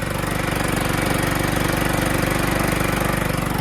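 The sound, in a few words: John Deere LT160 lawn tractor with rebuilt Kohler Command engine running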